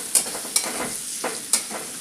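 Leftover rice dish with peas sautéed in a pan, a soft continuous sizzle broken by a few quick scraping stirs of a spoon.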